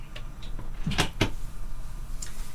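A great big drawer aboard a boat, one that stores a medical kit, is worked open or shut, giving two quick close knocks against a steady low background hum.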